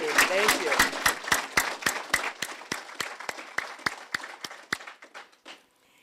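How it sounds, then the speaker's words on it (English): A few people clap at a veterans resource center opening, sharp separate claps in a steady rhythm that thin out and stop, with a voice briefly heard at the start. "So let's just give a round of applause for all of our faculty, veterans"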